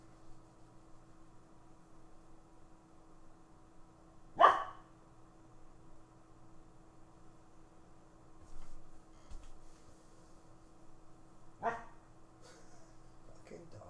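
Two sharp, isolated barks come from a dog, one early and one late, each standing out loudly above a low, steady background hum.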